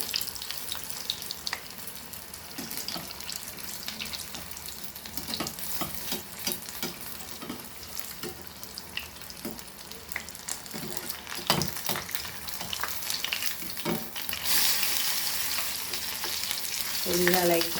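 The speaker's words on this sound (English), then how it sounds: "So these are like crispy prawns fried." Battered prawns fry for tempura in hot oil over a medium flame, giving a continuous crackling sizzle with scattered pops and occasional stirring and scraping, which gets louder toward the end.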